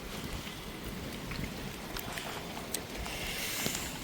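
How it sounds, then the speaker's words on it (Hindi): Heavy rain pours steadily on a terrace garden, a dense hiss of drops spattering on surfaces, loud and continuous with occasional sharper splashes. "बारिश हो रही है बेटा बहुत तेज"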